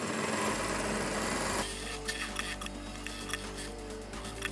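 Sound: sewing machine stitching a Punjabi dress pocket

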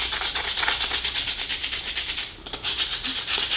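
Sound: hand sanding a wooden scroll saw piece

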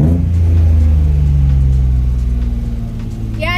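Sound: BMW E36 engine revving with a suspect noise

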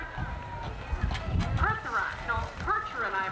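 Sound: Percheron draft mare hooves pulling a 1908 carriage

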